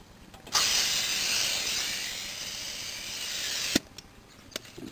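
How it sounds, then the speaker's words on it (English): On a steam locomotive, an air line is disconnected with a loud, sustained hiss of escaping air lasting about three seconds, ending in a sharp metallic clunk, followed by a few faint clicks. "I can close this valve off and disconnect this air line"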